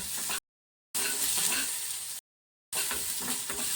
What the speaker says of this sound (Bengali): এটা সাদা তেল দিয়েছি হাফ চামচ রসুন কুচি হাফ চামচ আদা কুচি আর হাফ এক চামচ পেঁয়াজ কুচি দিয়ে দিলাম